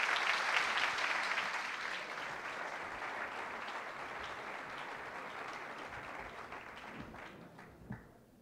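Audience applause fills a hall during an awards gala ceremony, a dense, sustained wash of clapping that starts strong and gradually tapers off near the end.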